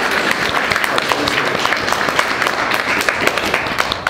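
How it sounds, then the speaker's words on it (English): An audience at a talk applauds for a presenter named Pete, a steady wash of clapping that holds at an even, fairly loud level for the whole stretch, with no voices breaking through. "Round of applause to Pete."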